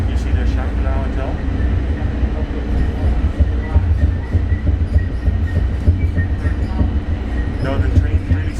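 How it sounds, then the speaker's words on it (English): A BTS Gold Line elevated train in Bangkok on an evening ride, a loud continuous rumble and rattle of the carriage with uneven jolts as it stutters through track corners. "the train really seems to be stuttering when it goes through the corners"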